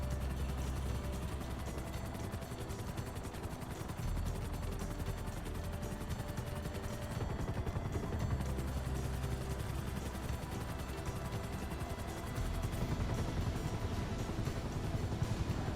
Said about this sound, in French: Hélicoptère bleu, atterrissage au mont Chiliad